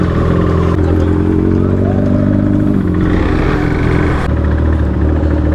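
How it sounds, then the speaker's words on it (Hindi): A Kawasaki superbike rides fast along narrow lanes, its engine roaring loud and close throughout with a hard gear shift partway through, wind and rattle over the top and faint voices underneath. "क्या भगा रहे हैं बाइक को यार"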